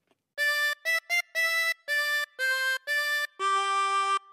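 A harmonica plays a phrase of Ode to Joy as a clean run of eight separate notes, the last one held longest, close and alone with no talk.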